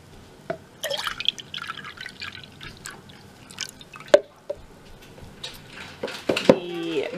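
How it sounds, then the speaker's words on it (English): Whole milk pours into a slow cooker with soft liquid splashes and drips, punctuated by clinks of a utensil against the pot, all close by and fairly quiet. "now we're going to add the 2 cups of whole milk"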